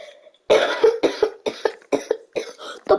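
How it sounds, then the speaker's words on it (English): A commentator coughs repeatedly during a basketball game call: a string of harsh, close bursts in an uneven rhythm, several in quick succession. "Sorry, I was coughing there."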